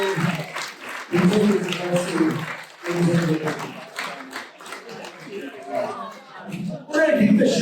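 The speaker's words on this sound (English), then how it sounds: "one last final applause for Steve Sterling" An audience at a comedy night roast of Steven A. Smith claps and applauds in swelling bursts, under a host talking over the clapping.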